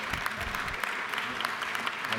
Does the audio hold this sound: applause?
yes